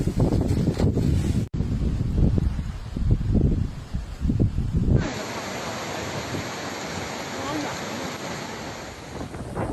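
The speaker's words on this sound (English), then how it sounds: "Fuzhou of Fujian Province and the coastal areas of Hainan Island saw strong winds and rain due to Typhoon Kompasu." Strong typhoon winds with rain from Typhoon Kompasu on the coast of southern China, a steady loud roar of gusting wind and rushing water, with heavy buffeting on the microphone in the first seconds before settling into a continuous wash.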